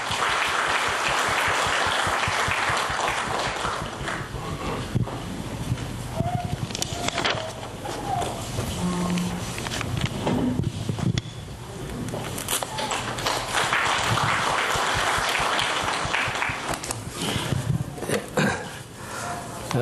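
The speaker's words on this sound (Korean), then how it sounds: "환영의 박수 부탁드립니다." An audience at a Dongmyeong University award ceremony gives welcoming applause for the university president, a dense, loud, continuous clapping that dips briefly in the middle, where other sounds intrude, then swells again.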